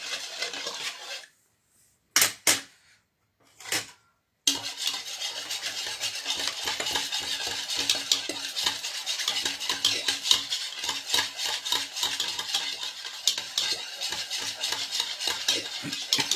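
Dahi vada batter is whisked with water and a pinch of salt in a bowl, a quick rhythmic scraping and beating that runs steady and close after a few short bursts and pauses.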